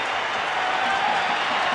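Big baseball stadium crowd at a Colorado-Atlanta game cheering steadily as the pitcher goes for a strikeout, a dense, sustained roar filling the whole stretch with no break.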